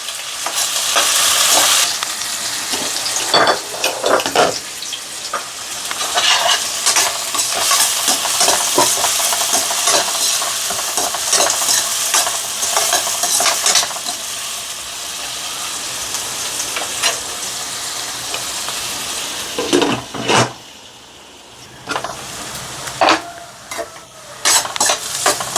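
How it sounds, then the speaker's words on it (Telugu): Onion pieces fry in hot oil for Andhra-style gongura curry, a loud continuous sizzle broken by repeated sharp clatters of a spoon stirring against the pan. "ఆయిల్ వేడెక్కిన తర్వాత ఉల్లిపాయ కట్ చేసుకుని ఉల్లిపాయ ముక్కలు బాగా వేసుకొని కొంచెం వేగిన తర్వాత అన్నమాట."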